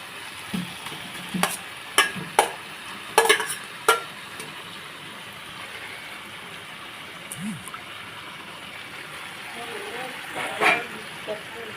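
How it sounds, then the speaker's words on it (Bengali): Fried potatoes are stirred into a well-cooked curry masala for chicken curry, giving quiet, scattered spatula scrapes and clicks over a faint low sizzle, with a voice murmuring briefly in the background. "ভালো করে একটু নাড়াচাড়া করে নিয়েছি। এরপর ভেজে রাখা আলুগুলো দিয়ে দেবো।"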